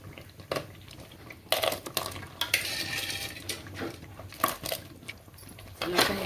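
Crabs go into spiced masala in a pan and get stirred, with clattering shell and pan knocks, scraping and a low sizzle, close and uneven.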